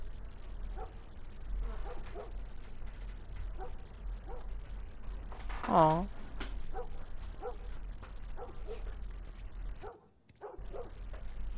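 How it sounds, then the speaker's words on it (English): Dog in The Last of Us Remastered video game barking in short repeated yaps and whimpers at a moderate distance over a low game ambience, with one louder burst midway and a brief spoken remark. "Would that dog be quiet?"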